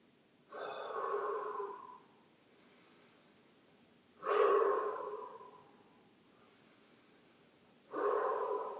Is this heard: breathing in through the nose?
yes